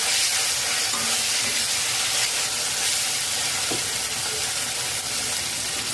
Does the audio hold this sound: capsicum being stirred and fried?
yes